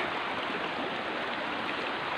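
Cold stream water rushes and splashes steadily while feet are washed in a forest stream, a close, loud, continuous wash with no talk.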